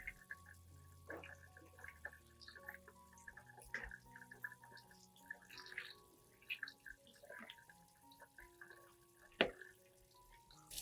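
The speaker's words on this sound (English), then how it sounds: "Rinse it under clean running water." Eggshells being rinsed under a running kitchen tap, with soft water flow and scattered drips and splashes, one sharper splash near the end, close by and fairly quiet.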